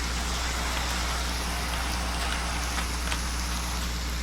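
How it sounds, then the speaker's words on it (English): Steady game rain hissing over a Minecraft savannah biome, a constant broadband wash with a low hum beneath, no voices. "look at this rain in the savannah or the plains"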